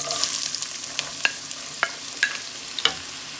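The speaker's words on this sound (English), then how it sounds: "this oil is very hot, so I'm going to add 2 medium size of onions" Onions fry in very hot oil for a baingan bhurta, making a steady close sizzle broken by several sharp clicks and taps of a utensil against the pan. No one speaks.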